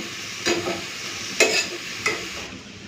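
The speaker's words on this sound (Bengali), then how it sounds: "এইভাবে গ্যাসের ফ্লেমটাকে একটুখানি কমিয়ে কমিয়ে হালকা হাতে ভেজে নেব" Soft sizzling of ivy gourd frying in a pan over a lowered gas flame, broken by three quick stirring scrapes spaced roughly a second apart.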